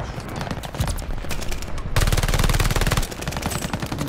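Rapid automatic fire from a PPSh-44 submachine gun in Call of Duty: Vanguard team deathmatch on the Berlin map, loud sustained bursts with a short break, game mix underneath.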